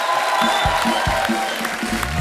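Studio audience clapping and cheering for a singer on a comedy talk show stage, a dense, steady wash of applause with light crowd noise throughout.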